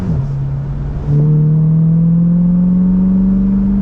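C8 Corvette with a Corsa Extreme exhaust accelerating from inside the car, a loud, droning exhaust tone that steps up after about a second and then climbs steadily in pitch as revs rise.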